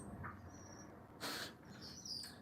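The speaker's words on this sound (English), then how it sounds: "I don't know if y'all hear the birds, but they are definitely up here talking" Birds chirp and call outdoors in short, faint bursts over a quiet background, with no talking.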